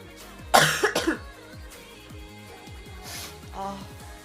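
A woman streamer coughs hard several times in a short burst, followed by a gentler cough a few seconds later, close to the microphone over faint background music.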